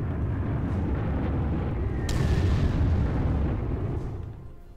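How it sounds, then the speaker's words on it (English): Artillery bombardment in the wargame Panzer Corps: a heavy, rumbling boom swells with a sharp burst near the middle, then rolls off and fades over a few seconds. "put some artillery in the way, and try to bombard it."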